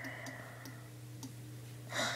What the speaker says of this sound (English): No, stop clicking multiplayer.